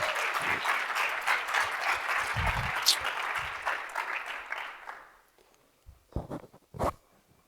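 Audience at a startup event claps and cheers loudly as a marketing director is called to the stage. The applause runs for about five seconds and then fades out, followed by a few isolated claps and thumps in the quiet.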